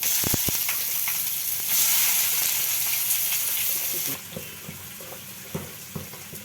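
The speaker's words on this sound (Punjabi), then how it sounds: "ਮੇਥੀ ਦਾ ਲਾਲ ਹੋਣ ਤੱਕ ਭੁੰਨਾਂਗੇ ਤੇ ਹੁਣ ਪਾਉਂਗੇ ਇਸ ਪਿਆਜ਼" Fenugreek seeds and onion fry in a pot, a loud broad hiss that surges early and then settles into a quieter sizzle with scattered pops and clicks. No one speaks.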